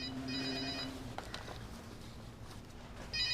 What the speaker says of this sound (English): Mr. Hooper, is that your phone?